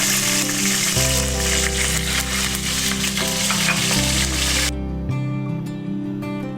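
Curry leaves sizzling and crackling in heated oil, a loud, dense frying hiss that continues steadily with some tonal background, ending in quieter crackles.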